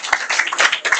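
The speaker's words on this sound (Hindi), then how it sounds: "करो तालियां बजाओ" An audience at a coaching-class prize distribution ceremony breaks into a brief burst of hand clapping, close and fairly soft, lasting about a second.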